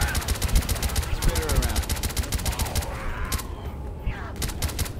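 Rapid automatic gunfire in Left 4 Dead 2, a steady stream of shots at a fast regular rhythm that thins out partway through, then resumes in shorter bursts, with voices talking over it.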